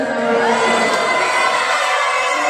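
A crowd cheers and shouts at a red carpet event for a TV drama cast. The roar is loud and dense, with whoops and high voices, and it holds steady for the whole stretch.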